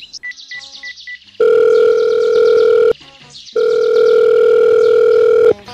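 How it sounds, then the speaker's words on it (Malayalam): Telephone ringing goes unanswered: two long, loud steady ring tones with a short gap between them, after brief softer beeping at the start. "അവൻ ഫോൺ എടുക്കണില്ലടാ,"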